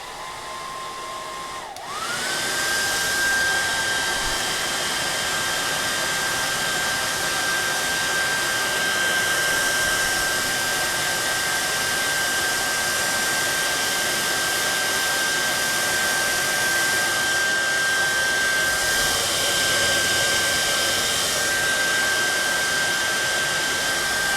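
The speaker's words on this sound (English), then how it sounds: "now it's going to be noisy because I'm going to be using the hairdryer" A hair dryer styles a cosplay wig, switching on after a brief click and then blowing in a loud, steady whine with a constant high tone that runs on without a break.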